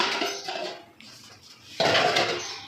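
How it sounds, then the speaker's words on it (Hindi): Dishes, pots and cutlery clatter and scrape during washing in a home kitchen, with bursts of rinsing and clinking close by, a quieter pause in the middle, then louder clattering toward the end. "तब तक हम कर लेते हैं अपने बर्तनों को साफ।"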